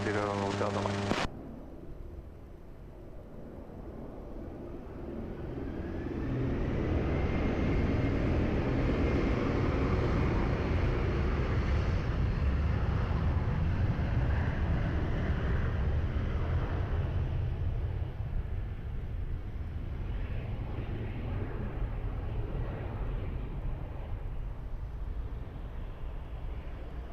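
An airliner takes off from runway 20 at Lisbon Airport, starting with a short burst of radio chatter and then a deep engine roar that builds to a loud, sustained rumble before slowly easing.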